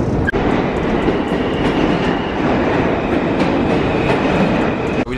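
A train rumbles along the rails, heard from inside as a loud, steady roar with faint rhythmic clatter from the wheels and no talking.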